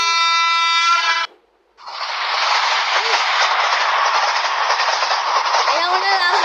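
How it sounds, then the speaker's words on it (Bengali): Rajdhani Express rushing through a railway junction: a horn blast, a brief gap, then a loud, sustained roar of wheels and carriages rattling past close by, with a faint squeal near the end. "এটা আমাদের রাজধানী এক্সপ্রেস"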